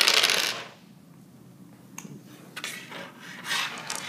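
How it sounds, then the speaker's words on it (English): Dice in a two-player card and dice game clatter and tumble across a hard surface in several quick bursts, close and crisp, with short rattling bounces and brief quiet gaps between rolls. "you can reroll your dice up to 2 times for a total of 3 rolls in each combat"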